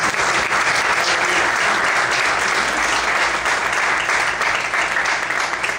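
A church congregation applauds the Lord together during an evangelistic service in Brasilândia, a dense, steady wall of clapping that stays loud and even throughout without any voices standing out.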